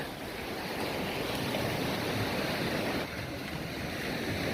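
Waves at Saeng Chan Beach in Rayong, Thailand, rush and hiss in a steady, dense roar of surf, with some wind buffeting the microphone and no voices.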